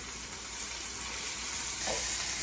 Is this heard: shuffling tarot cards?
no